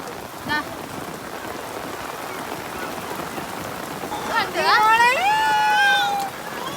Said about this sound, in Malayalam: ഭയങ്കര മഴ രക്ഷയില്ലാത്ത മഴ